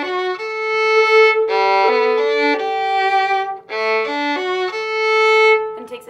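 A solo violin plays the second violin part of Hallelujah in rhythm, with bowed sustained notes in a steady arpeggiated pattern that sound clear, close and bright.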